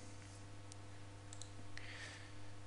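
A computer mouse click on a check-in button, several faint sharp clicks scattered over a steady low electrical hum in a quiet room.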